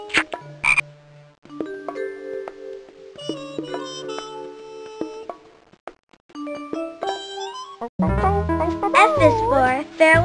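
A cartoon frog croaks in a children's learning game, Blue's ABC Time, among bright musical jingles and tones, with a child-like voice speaking and a loud burst of warbling croaks near the end.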